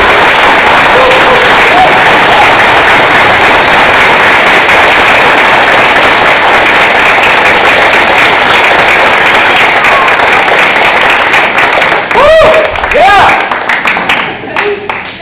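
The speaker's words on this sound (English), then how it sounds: "Please join me once again in applauding all of our new Honor Society members." An audience at a school National Junior Honor Society induction ceremony gives sustained loud applause for the new members, clapping steadily throughout with a few higher voices cheering near the end.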